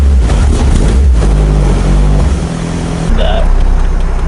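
A Mazda Miata NB with a 1.8 liter engine driving, its steady low engine drone and road rumble heard from inside the car, rising slightly toward the end.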